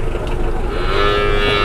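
A one-ton cow moos loudly at the Pasar Pon Ambarawa livestock market, a long, close, drawn-out low call rising over busy market noise.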